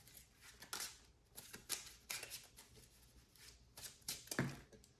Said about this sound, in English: Time to shuffle. Let's do the shuffle again.